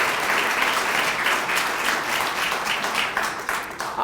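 An audience at a chamber of commerce mayors' event breaks into sustained applause, a dense, even clapping that fills the whole stretch and tapers slightly near the end.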